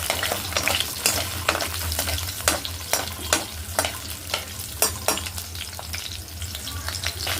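Onion frying in ghee in a pan with a cardamom pod, a clove and a small piece of cinnamon, a steady close sizzle broken by repeated sharp crackles and stirring scrapes, with no voices.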